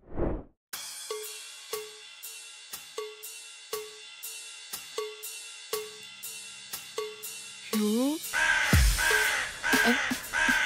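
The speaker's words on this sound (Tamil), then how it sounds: "ஐயோ ஆண்ட காக்கா வந்துருச்சு." A crow caws repeatedly, about a dozen evenly spaced harsh calls, close and clear, followed by a burst of rustling and a sharp crash near the end.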